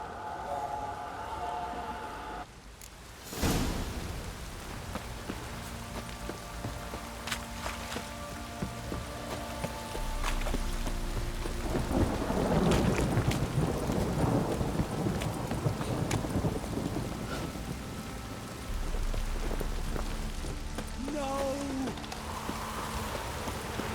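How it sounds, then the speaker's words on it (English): Heavy rain in the video game The Witcher 3 pours steadily throughout with a dense hiss, joined by a sharp loud crash early on and low rumbling swells later. "This downpour's a bastard, it is."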